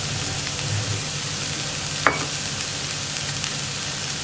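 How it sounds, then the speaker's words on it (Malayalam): Onion and curry leaves sauté in hot oil, giving a steady soft sizzle with a single sharp scrape or tap near the middle; no one speaks. "ഇനി നന്നായിട്ട് സവോള ഒന്ന് വഴറ്റിയെടുക്കണം"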